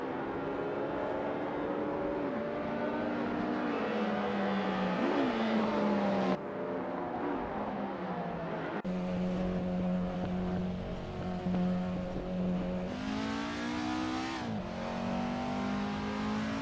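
AI-driven 1950s Formula 1 cars in a racing video game lap the Bahrain circuit, a steady loud engine drone rising and falling with gear shifts and cars passing, without voices.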